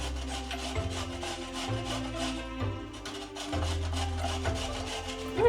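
Carrots are rubbed against a box grater in rhythmic strokes, each a coarse rasping scrape, repeating about seven times at an even pace, close and clear with no talking.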